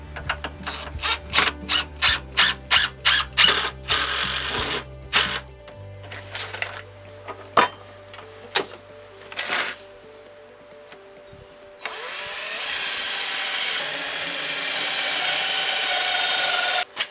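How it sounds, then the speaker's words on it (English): A power drill whirs in short, rapid bursts, then a long steady high-pitched whine drilling wood corners of a brooder pen close by, with clicks of clamps and tools between. "So we're just drilling these corners."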